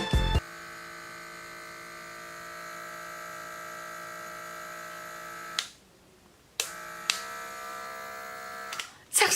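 A battery-powered electric blackhead suction device buzzes with a steady, close mechanical whine that cuts out briefly, restarts, and ends with clicks as it is switched.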